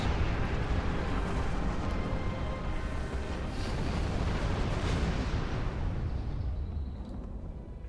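Cannons in a video game produce a continuous dense roar of rumbling blasts, loud and steady, fading slightly toward the end.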